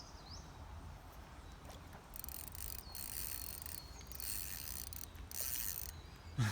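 A fishing reel's clutch clicks and ratchets in repeated bursts as a small carp pulls line during a fight near reeds, over a steady outdoor background.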